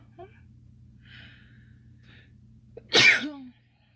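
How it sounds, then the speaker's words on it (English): After a few quiet seconds with faint background hum, a single sharp, close sneeze bursts out near the end and quickly fades. "Oh, I'm about to sneeze."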